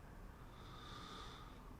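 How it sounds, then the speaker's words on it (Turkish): Heavy, steady breathing of a man in a Turkish-made mobile horror game, a continuous raspy rush of air that stays close and fairly quiet throughout. "Bu adamın nefes alıp vermeleri beni benden alıyor haya."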